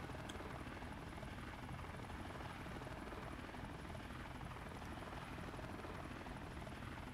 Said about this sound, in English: I have to sit and watch me struggle trying to fly a helicopter